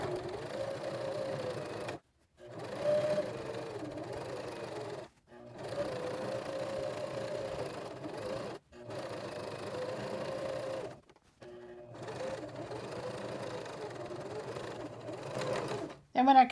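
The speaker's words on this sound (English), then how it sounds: "we're top stitching, so we're going to use the inside edge of our foot, and I'm just going to go all the way around" A sewing machine top stitches around a canvas tote bag, running in several steady bursts with brief pauses between passes, close and fairly loud, with speech over parts of it.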